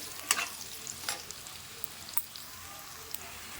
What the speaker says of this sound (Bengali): আলুটা এবার ভেজে নেব ভালো করে